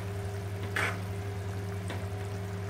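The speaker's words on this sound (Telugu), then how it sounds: "తరిగి ఉంచుకున్న ఈ చింత చిగురుని మటన్లో ఇలా వేసుకోవాలి. వేసుకొని అంతా కలిసేటట్టు కలుపుకోవాలి." Chopped tender tamarind leaves being mixed into mutton in a pan, a quiet steady frying sizzle with a couple of soft scraping stirs.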